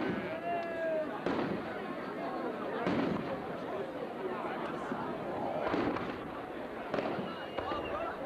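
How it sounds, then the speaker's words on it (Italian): Rapid bursts of firecrackers popping at a distance, scattered cracks over several seconds with voices chattering throughout. "senti che botti!"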